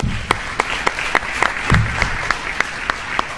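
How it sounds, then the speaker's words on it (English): An audience gives a round of applause for a speaker at a judged speaking contest, with sparse, regular claps ringing out over a steady wash of softer clapping. "A round of applause for her."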